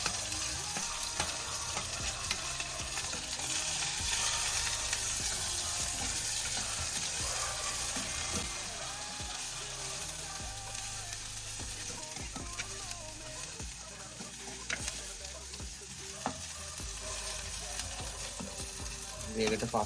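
Chopped onions and chillies sizzle in hot frying oil for a Sri Lankan egg curry, a dense, continuous crackle that stays fairly even throughout, with occasional stirring clatter.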